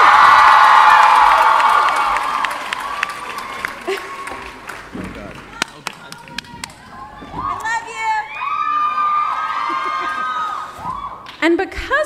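A live studio audience screams and cheers loudly for a guest from Teen Wolf, the roar fading into scattered claps and excited shouts, then rising again into another burst of whooping.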